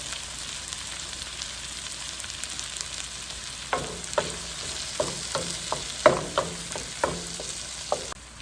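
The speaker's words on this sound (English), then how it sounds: "I'm gonna put the fresh basil and stir" Fresh basil stirred into a sizzling tuna and tomato pasta sauce: a steady frying hiss, then a run of spoon scrapes and light clatters against the pan in the second half.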